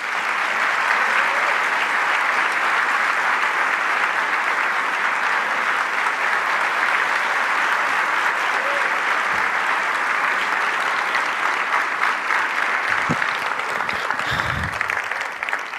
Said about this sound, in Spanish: le pedimos un muy fuerte aplauso para recibir al señor Presidente de la Nación, Javier Milei